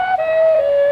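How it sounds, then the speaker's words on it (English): A steam calliope on a riverboat plays a single loud, piercing whistle note: a brief first tone, then a slightly lower pitch held steadily for nearly a second, close and alone. "Each key has its own whistle."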